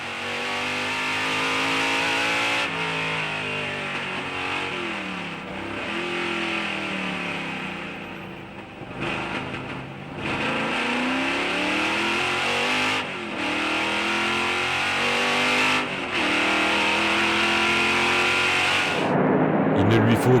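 Historic race cars at the Spa Classic at Spa-Francorchamps, several engines roaring and revving hard through gear changes, loud and close with overlapping engine notes, under a commentator's voice.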